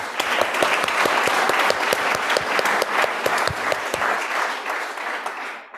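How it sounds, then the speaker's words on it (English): A workshop audience at a climate justice summer school in Nairobi gives a sustained round of applause for a presenter. Dense, even clapping from many hands starts at once and tapers off near the end. "Dr. Denya deserves a better clap"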